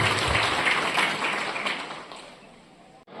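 An audience at a ceremony honouring organ donors' families in Salangpur applauds, a dense burst of clapping that thins and fades away toward the end.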